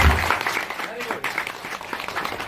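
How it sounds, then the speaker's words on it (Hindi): Church congregation at a Hindi Christian worship service clapping together, the applause mixed under a preacher's loud voice and crowd noise. "एक बार ताली बजाएं हम लोग।"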